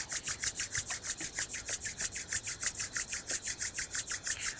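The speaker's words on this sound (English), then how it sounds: "Begin to rub your hands together vigorously, creating warmth" Two hands rub together vigorously in a quiet chair yoga session, a steady fast back-and-forth swishing that repeats about five times a second, soft and close with no talking.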